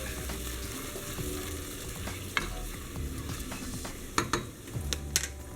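A spoon stirring food in a pot during the making of Mexican stuffed peppers, with quiet scraping and scattered clinks against the pot over a soft low simmer, close and gentle.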